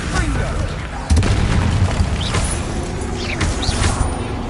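A Confringo blasting spell explodes in Hogwarts Legacy, a loud booming burst with a sharp onset, followed by a dense rumbling tail and a few smaller pops and whooshes over steady game noise.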